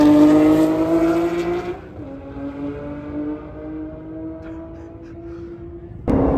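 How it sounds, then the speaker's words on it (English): A Dodge Demon 170 drag car launches down the strip at a street car takeover drag and roll racing event. Its loud engine roar drops off briefly after about two seconds, holds a steady droning tone, then surges loud again near the end. "That's the first time I ever seen a Demon 170 in person move."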